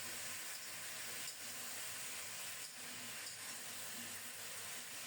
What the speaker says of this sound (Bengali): ঢাকা দেব না, নেড়ে চেড়ে ফুলকপিগুলোকে একটু ভেজে নেব।